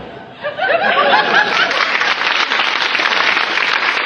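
A studio audience at a comedy show bursts into clapping mixed with laughter and chuckles, rising quickly into a full, loud, sustained round of applause.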